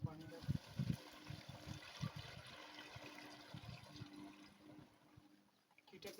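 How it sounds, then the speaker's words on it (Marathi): Water pours into a 20-litre double-battery sprayer pump tank, a low gurgling, trickling stream running steadily under nearby conversation. "आता बघा ते पहिले पाणी टाकतील."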